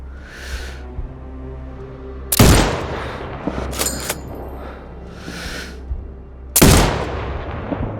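Two loud sniper rifle shots in the video game Sniper Ghost Warrior Contracts 2, the first about a third of the way in and the second near the end, each with a sharp crack and a rolling echo over a low ambient hum.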